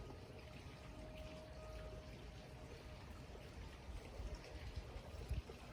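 Water pours and trickles from a tap or jug to wet a face before shaving, a steady quiet splashing stream with a few louder splashes near the end.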